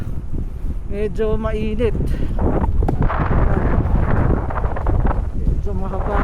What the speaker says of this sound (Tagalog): mahangin siya may malakas ang headwind.